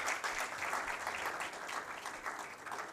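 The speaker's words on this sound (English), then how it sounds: "what he deserves is a very good round of applause" An audience at a Rotary Club installation ceremony gives a steady round of applause, dense continuous clapping from many hands at moderate distance with no speech over it.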